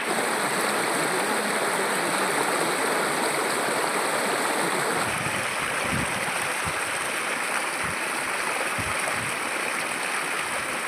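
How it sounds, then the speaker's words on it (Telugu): Running tap water pours steadily while items are washed clean, a constant close rush that shifts after a few seconds into splashes and light knocks. "నీట్గా కడుక్కొని ఒక సైడ్ తీసుకుంటున్నాను"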